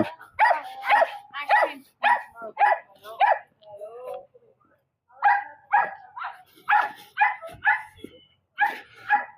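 A dog barks repeatedly in quick bursts of yaps, pausing briefly before barking again, loud and close.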